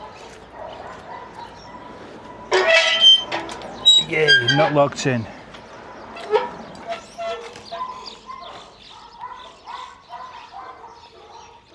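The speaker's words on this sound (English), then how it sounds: "I know you can hear dogs. I think it's some dog sanctuary." Several dogs at a dog sanctuary in a park near Almería bark and yip in a brief flurry at middle distance, then scattered fainter barks continue while a person speaks briefly nearby.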